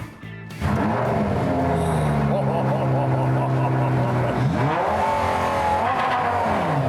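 Lamborghini engine catches and fires up, then revs loudly and pulls away, rising and falling through gear changes with some tire squeal, close and strong; talk is faintly mixed in.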